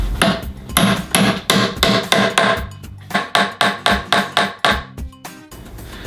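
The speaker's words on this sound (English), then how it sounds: "I'm going to hammer in these carriage bolts" Loud, evenly spaced hammer blows drive metal carriage bolts into a spalted maple slab, about two per second, close by, with a brief pause midway.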